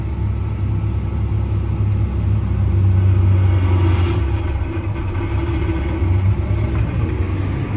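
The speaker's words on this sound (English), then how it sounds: "PTO fired up." Tractor PTO running while baling thick barley, a steady low mechanical rumble and drone that holds constant throughout, with no voices.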